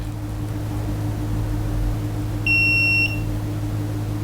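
Steady low electrical hum throughout, then one sharp high-pitched electronic beep lasting about half a second, close and clear: a digital multimeter's continuity test tone confirming a wire is connected.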